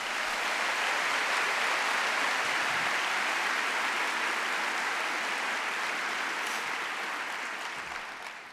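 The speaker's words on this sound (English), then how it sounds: "just maybe a brief, quick applause for them." Audience at an international speaker series event giving a brief round of applause, a steady wash of many hands clapping that holds evenly and fades slightly at the end.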